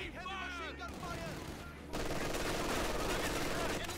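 An MG42 machine gun firing in Company of Heroes 2, a voice speaking over game sounds before a dense, sustained burst of rapid fire takes over for the last two seconds.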